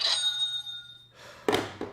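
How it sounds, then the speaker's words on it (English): Stock market opening bell ringing, a bright metallic tone that sustains and fades for about a second, followed by a few dull knocks and brief clatter. "that's market bell open"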